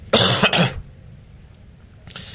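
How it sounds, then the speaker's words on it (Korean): Two quick, harsh coughs close to the mic, back to back, followed by a quiet pause and a faint rustle at the end. "어쨌든 난 기침이야."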